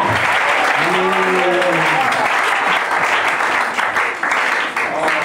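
A crowd at a religious gathering bursts into sustained applause and cheering, loud and dense throughout, with shouted voices rising above it early on.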